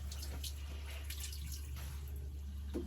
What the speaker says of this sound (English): I'm just going to rinse them under the tap